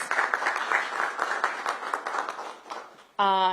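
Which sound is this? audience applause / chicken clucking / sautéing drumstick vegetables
audience applause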